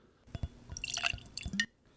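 Whiskey splashes into a glass in a brief, faint pour of small drips and trickles, heard alone.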